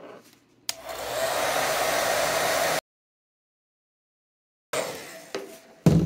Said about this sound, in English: I'm going to use a heat gun to heat up the label